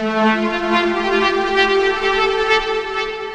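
Synthesized string ensemble from a VST instrument used for making Bhojpuri music, a sustained layered chord with rich harmonics holding steadily and loud throughout, without any voice.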